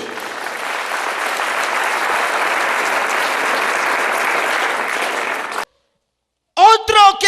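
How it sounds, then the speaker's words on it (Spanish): A church audience claps loudly and steadily, a dense wash of applause that cuts off abruptly, followed by a voice speaking. "Dale fuerte palmas a ese Dios que tenemos"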